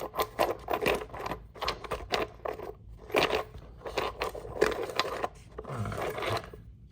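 Rock saw cutting down the middle of an Arizona rock: a harsh, gritty grinding that comes in bursts with short gaps, steady and close, with no voices.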